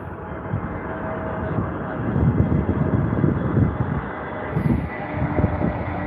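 A fixed-wing airliner takes off at Heathrow Airport, its engines giving a sustained, broad roar that swells and eases over several seconds, steady and moderately loud throughout.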